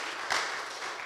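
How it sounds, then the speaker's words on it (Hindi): Applause at a Sunday Hindi church service welcoming a visitor, a steady wash of clapping across the whole moment with a slightly louder swell near the start. "जोरदार तालियों के द्वारा उनको स्वागत करें।"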